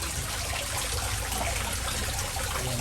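A strong water current swirls through a dig hole beside a pipe, making a steady, close, broadband rushing and gushing that stays constant throughout without talk.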